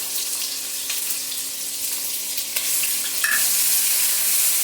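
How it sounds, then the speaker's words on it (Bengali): Ground peanut paste and a little sugar going into hot oil in a pan: a steady close sizzle that swells louder midway, with a couple of brief spoon knocks. "এখন এই তেলটার মধ্যে আমি বাদাম বাটাটা, চিনি বাদাম বাটাটা দিচ্ছি, সঙ্গে একটু চিনি দিয়ে নিয়েছি"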